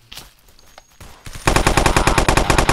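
Rapid automatic gunfire in the video game Blockade 3D. A few scattered shots come first, then a loud, fast, continuous burst of machine-gun fire.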